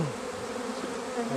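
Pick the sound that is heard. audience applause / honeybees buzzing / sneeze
honeybees buzzing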